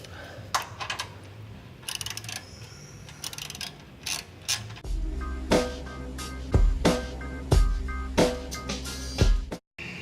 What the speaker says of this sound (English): So I'm going to tighten this side up.